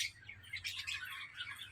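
Pigeons and budgies calling from a rooftop, a steady stream of close, bright chirps and tweets with no talking.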